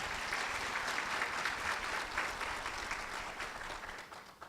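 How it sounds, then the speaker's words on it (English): Audience applause at a fair and affordable housing summit in Winston-Salem, a steady, dense wash of many hands clapping that holds for several seconds and tapers slightly at the end. "So can we give our title sponsors a round of applause?"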